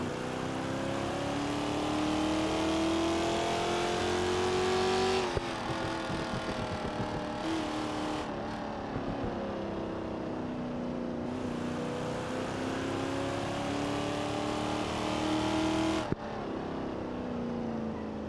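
Moonhawk rally car in BeamNG fitted with a C4 Corvette LT1 V8 and four-speed manual, engine revving and droning in rising pulls with abrupt shifts or cutoffs, loud and close throughout.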